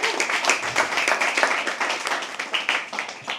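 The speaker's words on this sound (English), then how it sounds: "Can we all clap for them?" Audience clapping at a poetry open mic, a dense crowd applause that stays fairly steady and close for the whole stretch, with scattered individual claps standing out.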